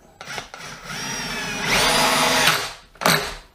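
A power drill in screwdriver mode drives single-thread wood screws into timber in three bursts: a short whine, a longer whir that bites and strains, then a final brief spin, all close and loud.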